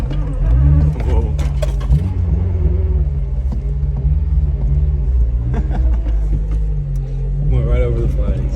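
A Honda Si with a K20 VTEC engine rolls over small lawn flags, its steady low engine rumble loud and continuous throughout, with brief clunks and rattles from the car and a voice speaking over it.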